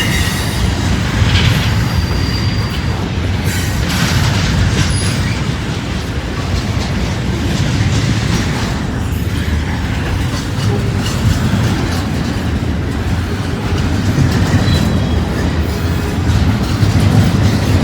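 A southbound CSX freight train rolls past close by, a loud, steady rumble of railcars with wheel clatter and occasional squeals of wheels on rail throughout, no talking.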